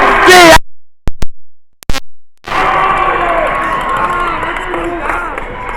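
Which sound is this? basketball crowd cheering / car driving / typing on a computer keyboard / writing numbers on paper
basketball crowd cheering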